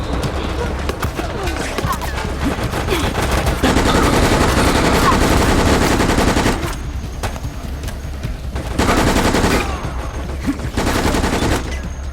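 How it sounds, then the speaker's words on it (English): Rapid bursts of submachine gun fire in the Resident Evil: Operation Raccoon City video game, dense and sustained with louder stretches, laid over game noise and voices talking. "Submachine gun."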